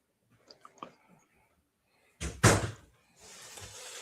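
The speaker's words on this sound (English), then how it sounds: "Close that door." A door swings shut with one loud, near thud and a short rattle, followed by a low hiss of room noise; a few faint clicks come just before.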